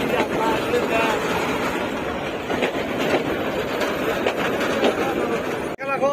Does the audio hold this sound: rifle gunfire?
no